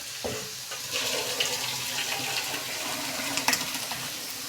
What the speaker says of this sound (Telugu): ఇప్పుడు దీన్ని వడగొసుకున్నాం మనము చూడండి ఇలా బక్కలుండే దాంట్లో వడబోసుకోవాలి